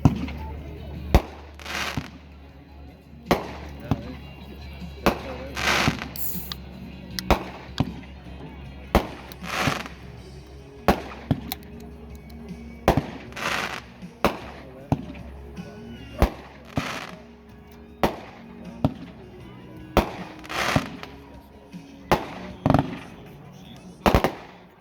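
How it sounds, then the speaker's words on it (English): A World Class Magic 16-shot, 500-gram consumer fireworks cake fires at an outdoor demo, with a series of sharp, loud bursts spaced a second or two apart over a steady background rumble and some distant crowd noise. "Nice little 16-shot, 500-gram cake there."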